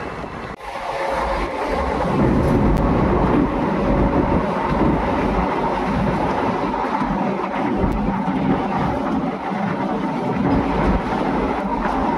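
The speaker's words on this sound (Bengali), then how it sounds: "আমাদের ট্রেন কিন্তু রামপুরহাটের দিকে এগোচ্ছে" A passenger train heading toward Rampurhat, near Kopai station, runs steadily along the tracks, with a continuous loud rumble and rattle of carriages and no one speaking.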